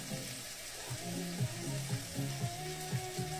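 Cabbage cooks in a pan, giving a quiet continuous sizzle with soft bubbling and faint spoon or pan knocks in a loose rhythm.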